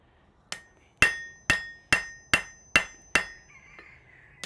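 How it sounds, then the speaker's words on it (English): Hammer blows on hot metal in a smithy ring out seven times at a steady beat, each a sharp, bright metallic clang that decays quickly, close and loud with no talk. "Is to use the rounding side of my hammer that pushes it out."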